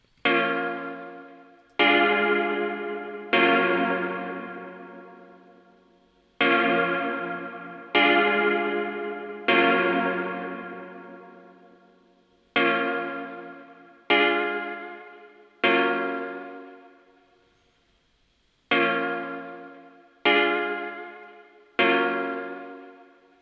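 A sample-making template in Logic Pro X with its long plate reverb send turned up plays a sequence of a dozen or so plucked, chord-like hits, each leaving a long shimmering tail that fades away before the next strike.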